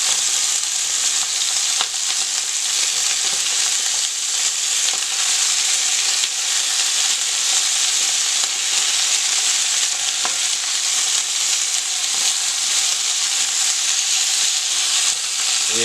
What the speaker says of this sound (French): Donc notre viande est bien dorée de partout.